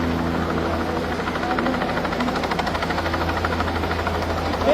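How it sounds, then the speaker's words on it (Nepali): A rescue helicopter hovers over a flooded house on the Trishuli river between Rasuwa and Nuwakot, lifting a child off a rooftop. Its rotors chop in a steady, loud, continuous drone with a low engine hum throughout and no voices. "बाढीमा फसेको घरमा माथि छतमा फसेको एउटा बच्चालाई चाहिँ हेलिकप्टर आएर उद्धार गर्दैछ"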